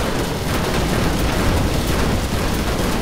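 A powerful rocket blast in the vehicular combat game Death Skid Marks, a loud, dense roaring rumble that stays close and sustained throughout, with no speech.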